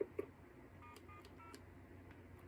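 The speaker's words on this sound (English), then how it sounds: "Let's Hookflash and cancel call waiting," A telephone on a custom TDM switch with Dialogic voice boards does a hookflash to cancel call waiting: two faint clicks open, then a short, quiet sequence of DTMF keypad tones over low line hiss.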